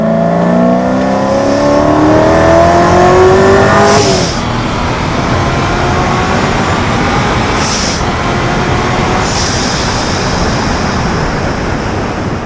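A Hennessey 1000 HP Corvette Z06 engine roars loudly as it accelerates, rising in pitch with the whine of a centrifugal supercharger, then shifts gear and keeps pulling hard.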